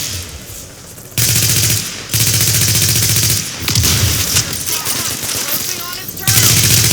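Sustained automatic gunfire in the shooter video game The Division, loud and close, with several long bursts of rapid shots and a few booming impacts, partly under a shouted voice.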